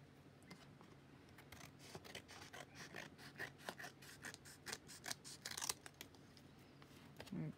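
Scissors snip paper to trim a planner journal page, a close run of quick, crisp cuts in an uneven rhythm, fairly quiet and with no voices.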